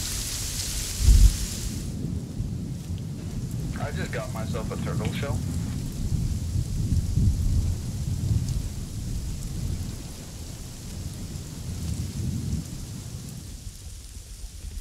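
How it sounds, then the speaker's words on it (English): Heavy rain pours steadily with a thunder crack early on in the video game Sons of the Forest, loud and constant under players talking over voice chat. "Holy rain. Why is it so loud?"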